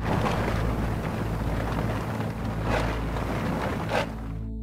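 Steady, loud wind roars and rumbles continuously at a cold 17,000-foot mountain base camp, with gusts surging now and then against a constant low blustery background.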